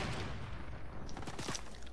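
Video game gunfire crackling in a muffled, rumbling stretch, with several quick sharper cracks toward the middle and the end, no voices over it.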